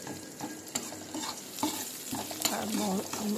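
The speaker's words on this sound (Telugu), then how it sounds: "చిన్న ఉల్లిపాయలు దంచి అలా వేసుకోండి నేను కచ్చవచ్చ దంచేసి అలా వేసుకుంటాను" Crushed small onions fry in a pan for a broad bean curry, a steady sizzle broken by repeated scraping stirs of a spoon against the pan, close and without talk.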